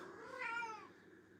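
A cat meows once in a drawn-out, rising-and-falling call, close and fairly clear over a quiet indoor background with no talking.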